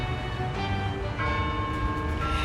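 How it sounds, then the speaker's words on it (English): Bells ring out continuously in overlapping, sustained tones that layer into a rich, droning peal. They sound moderately distant and carry no speech. "I'm sure you can hear the bells are ringing."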